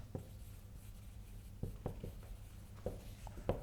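Chalk or marker strikes a classroom board during a math lecture, a series of short sharp taps and strokes spaced irregularly over a low steady room hum, with no speech.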